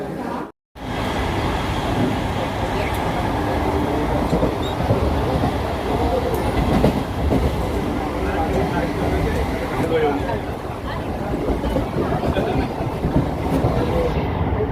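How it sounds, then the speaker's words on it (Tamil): A train rumbles into a station with rhythmic rail clatter, loud and close, steady noise filling the whole stretch after a brief cut at the start. "நம்ம போக வேண்டிய ட்ரெயின் வந்துட்டுங்க"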